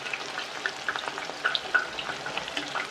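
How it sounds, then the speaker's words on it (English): Soya chunk nuggets frying in hot oil, a soft continuous sizzle scattered with sharp crackles and pops, close and fairly quiet with no talking. "Let the nuggets fry."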